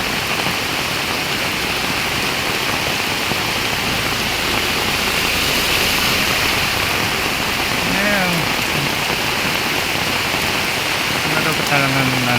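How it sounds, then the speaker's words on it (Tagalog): Heavy rain pours steadily onto a flooded street, a loud, dense, unbroken hiss throughout, with faint voices and passing engine sounds underneath. "kahit malakas ang ulan"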